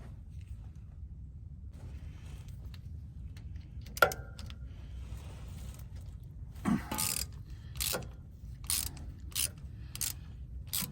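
A socket ratchet works on a fitting of the rear axle brake line on a Ford F600 truck, giving a few scattered close clicks and ratcheting bursts over a low background rumble.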